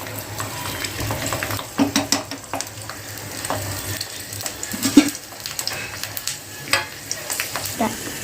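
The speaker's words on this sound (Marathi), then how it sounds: "हा लसूण जो आहे ना तो आपल्याला या तेलामध्ये घालायचा आहे आणि लसणाला चांगलं थोडंसं कलर येईपर्यंत आपल्याला फ्राय करायचं आहे तेलात" Garlic fries in hot oil for a sesame chutney, a soft, continuous sizzle broken by scattered scrapes and clinks of stirring nearby.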